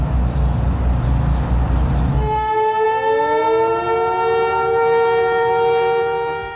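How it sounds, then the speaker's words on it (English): After a rumbling opening, air raid sirens rise and wail across Saudi Arabia during Operation Desert Storm, several overlapping tones sustaining loudly and steadily to the end. "air raid sirens warned civilians and soldiers to take cover."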